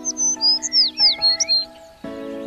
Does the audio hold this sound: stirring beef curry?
no